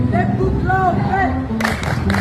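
A group of marching competition participants chants together, then breaks into a few sharp, evenly spaced claps in unison.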